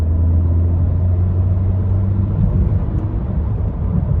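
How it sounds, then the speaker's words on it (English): A steady, loud engine drone heard from inside a moving 2005 Mercedes-Benz C230 with a manual gearbox, with a low rumble and a faint supercharger whine running underneath throughout. "You actually can hear the supercharger whine."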